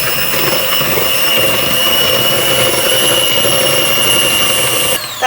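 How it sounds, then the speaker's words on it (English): An electric hand whisk beats a dessert mixture, running steadily and loudly with a high whine and harmonic tones throughout, then shifting briefly near the end as the speed changes. "all we need to do is whisk that together. So let's get whisking. Low."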